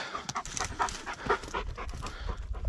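Dogs on a hiking trail panting rapidly and steadily, close by, with rhythmic breathy bursts continuing throughout and no talking.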